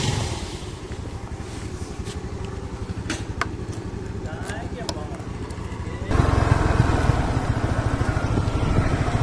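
A motorcycle pulls away from a petrol station at the start of a morning group ride from Krishnagiri to Pondicherry, its steady engine drone rising and growing louder partway through as it picks up speed.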